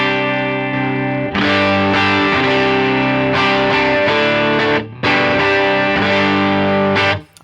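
Electric guitar through a Heir Apparent overdrive model on a Line 6 HX Stomp, set fairly clean, strumming loud sustained chords in phrases with a couple of brief pauses, no talking.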